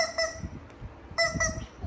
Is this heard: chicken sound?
yes